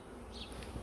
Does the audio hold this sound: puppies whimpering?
no